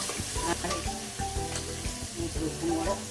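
Green chillies, small local kanthari type, sautéing in a pan while making mutton kurma, with a steady close sizzle and scraping stirring strokes throughout, and tonal clinks from the utensil.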